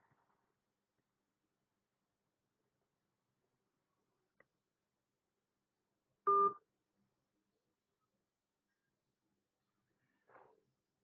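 An outgoing phone call produces sparse dialing tones over near silence: a tiny click, then one short loud beep around the middle, and a quieter tone near the end, with no voices.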